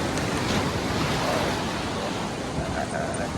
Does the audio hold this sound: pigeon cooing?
no